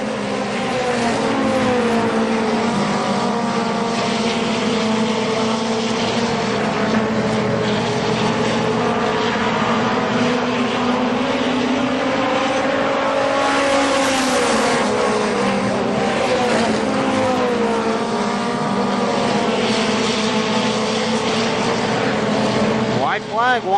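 Stock cars racing at Kil-Kare Speedway, with loud, sustained engine roar from several cars as they speed down the back straightaway, the pitch rising and falling as they pass.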